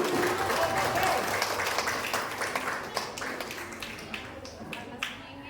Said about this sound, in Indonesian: Tepuk tangannya guru untuk kedua lagu.